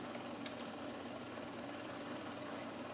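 A small engine from the video game GTA San Andreas runs at a steady, faint, buzzing drone with no change in pitch or rhythm throughout.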